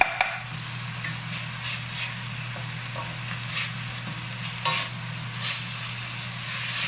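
Garlic chive flowers being stir-fried in a wok for fly's head stir-fry, giving a steady close sizzle with scraping stirs and a constant low hum underneath, no talking.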